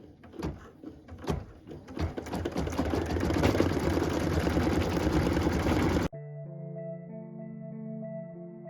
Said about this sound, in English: we're going to go ahead and let it stitch that white fill